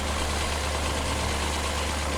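A small tractor engine, a model 1630, labours uphill under a heavy load in Farming Simulator 2017, a steady, dense drone that runs without a break and with no voices.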